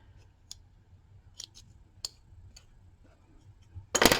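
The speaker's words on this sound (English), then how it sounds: "Oh, I didn't snip that one. Let's snip it." Scissors snip sewing thread while hand-stitching hexagon quilt pieces, a few faint, sparse clicks scattered over quiet room tone, ending in one louder, closer crisp snip.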